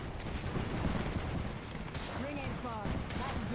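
Rampart's Sheila minigun firing in Apex Legends, a rapid rattle of gunfire somewhat distant and low in level, with players talking over it.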